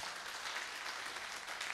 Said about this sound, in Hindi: एक बार मैं चाहूंगा इस वृक्ष के लिए जोरदार ताली बजा दीजिए